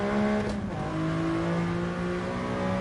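A Mercedes-AMG GT Black Series engine drones steadily on the Nürburgring, its loud, near, continuous engine tone shifting in pitch as the car oversteers through a corner.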